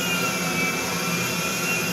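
Steady roar of a commercial airliner's jet engine in GTA V, a continuous broadband whine and rumble holding at constant loudness throughout, with no voices over it.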